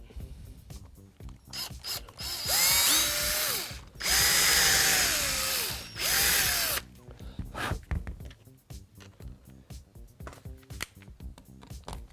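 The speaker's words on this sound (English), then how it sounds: "Just drill my hole." A power drill whines through three rising bursts of a few seconds each, drilling a hole to reposition a mounting plate, with loud mechanical rattling and clicking before and after.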